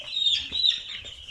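Dense, high-pitched peeping from a flock of one-day-old chicks huddled under a heater on a poultry farm, a continuous close chorus with a low background hum and no talk.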